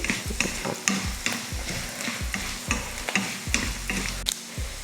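Gooseberries and urad dal being sautéed in a pan, a steady close sizzle broken by repeated rhythmic scrapes and stirs of a spatula, loud and continuous with no talk.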